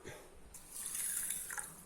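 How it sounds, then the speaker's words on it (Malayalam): Water pours quietly into a glass holding salt, a soft trickling wash lasting under two seconds with a faint drip-like edge. "ഒരു 2 ടേബിൾ സ്പൂൺ ഉപ്പിട്ട് കുറച്ച് വെള്ളം ഒഴിക്കണം"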